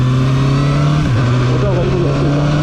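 A KOVE 450RR motorcycle engine hums steadily close by, dips briefly as the throttle is fully closed, then surges back when it is reopened, with a slight jerky lurch in its pitch.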